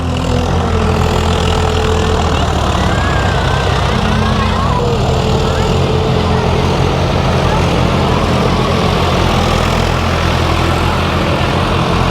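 A heavy tractor engine rumbles continuously at a steady idle, loud and close, with faint voices underneath, in rural Polonnaruwa, Sri Lanka.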